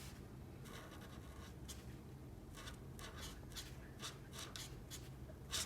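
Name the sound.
coloring a drawing with a marker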